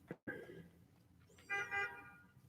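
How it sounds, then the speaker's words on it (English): A car horn honks outside, faint and distant: a short muffled toot followed by a slightly longer double honk, heard through a quiet room. "And the car honked"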